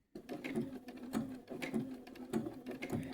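A sewing machine stitches a T-shirt design onto the back of a flannel shirt, giving a close, steady mechanical whir with a regular rhythmic beat of repeated stitches and short pauses between bursts.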